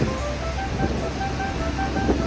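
A continuous broad roar of rushing water from Manavgat Waterfall in Antalya, Turkey, steady and fairly loud, with a faint tonal whine running through it.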